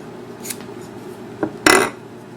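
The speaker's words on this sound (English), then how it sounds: "I'm going to try to slice it first, just see how it slices" A Becker BK-11 knife blade slicing through material, heard as a brief scrape followed by a sharper, louder cutting swipe, close up with no speech.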